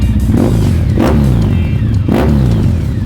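A Triumph Sprint 1050 GT motorcycle engine with an aftermarket exhaust revs loudly up and down in repeated surges, close by, with a deep throaty exhaust rumble.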